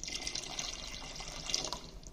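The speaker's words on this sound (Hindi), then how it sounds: "इसमें आपने डालना है एक कप पानी" A cup of water poured into a pan of green masala egg curry gives a steady splashing, running-water sound. The pour continues without a break for about two seconds and is moderately loud and close, with no talk over it.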